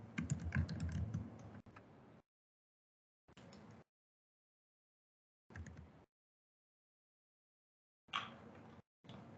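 Computer keyboard keys pressed in short separate bursts of clicky tapping, with silent gaps between them, close and quiet.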